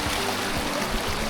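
A river stream flows steadily in a rainforest, a continuous close rushing and burbling of water with no talk.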